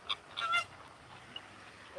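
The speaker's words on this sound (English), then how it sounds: "Disney ducks over here with the flamingos today." Flamingos and ducks at Disney's Animal Kingdom Lodge give a few quick honking calls close together at the start, then fainter scattered calls over quiet outdoor ambience.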